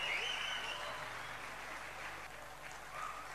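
A stage event audience applauding a guest, Murali Mohan, being welcomed, with dense continuous clapping from a crowd and a brief whistle over it.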